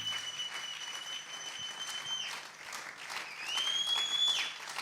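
A church congregation applauds, steady dense clapping that swells and fades over several seconds, with a faint tonal whine drifting above it.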